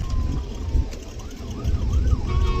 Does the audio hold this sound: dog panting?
no